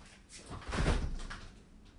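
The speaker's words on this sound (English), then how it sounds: "I'm actually just going to open the back door." A back door opening from a warm conservatory: a soft, muffled rumble and slide that swells in the middle and fades, close and fairly quiet with no talk.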